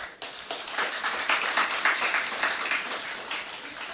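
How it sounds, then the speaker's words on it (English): Audience applause at an inter-college nursing declamation contest, a lively burst of many hands clapping at moderate distance, steady throughout. "Let's give her a huge round of applause."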